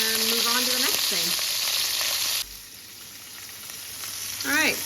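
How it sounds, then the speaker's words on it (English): Pieces sear in a hot pan with a loud, steady sizzle; a voice talks over the opening seconds and again at the end, while the frying continues more quietly in between. "we will, sear these guys and get some color on them"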